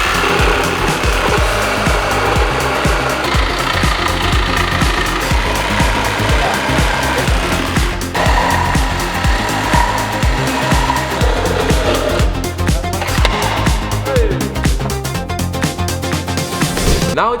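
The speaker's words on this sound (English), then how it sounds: "we have to saw away the parts that we don't need to get some more space and get it clean out" Power saw cutting away unneeded parts of a rusty US Toyota Supra body during restoration, a loud continuous grinding-cutting drone that holds steady for the whole stretch with brief shifts in pitch as the blade works.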